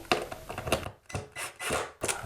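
Screws being tightened into a smoke detector mounting plate, giving a run of short close scraping, rubbing twists in irregular bursts with brief pauses between turns.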